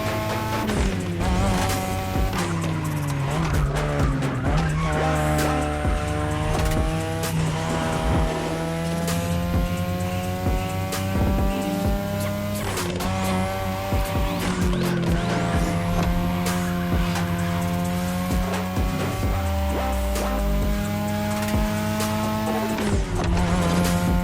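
Cars race through a street course in The Crew Motorfest on PS4, with loud continuous engine roar rising and falling through gear changes and repeated tire squeals and skids, no talking.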